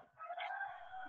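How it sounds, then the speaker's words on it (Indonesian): A chicken's call carries faintly over an online VoIP class connection, a single brief, thin, compressed crow-like cry lasting about a second, with no talking over it. "Inilah masih ada suara ayam tadi. Ada suara ayam, di mute dulu dong."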